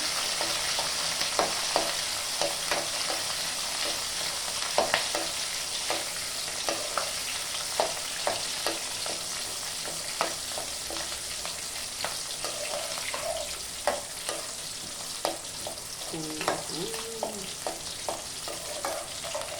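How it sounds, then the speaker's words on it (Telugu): Green chilies and curry leaves fry in hot oil with a steady, moderately loud crackling sizzle, punctuated by frequent light taps and scrapes of stirring throughout, with no voices. "పచ్చిమిర్చి, కరివేపాకు, వేసాను. బాగా వేగాలి."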